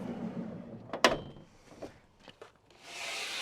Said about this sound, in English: If we open the door